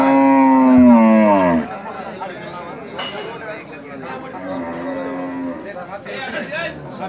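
A native-breed cow moos loudly once at a busy cattle market in Rajshahi, a long low call followed by crowd chatter and nearby talk.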